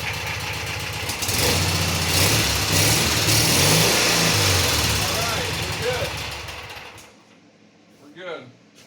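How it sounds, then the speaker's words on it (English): A Cub Cadet 782 garden tractor engine fires up and runs loud and steady for about seven seconds before cutting off, leaving a quieter tail with a short burst of sound near the end. "Let's go ahead and fire it up real quick just to test for sure that all the electrical systems are working and that the thing actually runs still"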